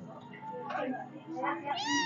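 An orange kitten meows close by, two or three rising, high-pitched cries over a couple of seconds, with a person's voice speaking softly alongside.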